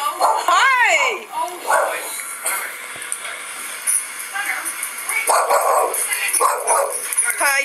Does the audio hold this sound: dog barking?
yes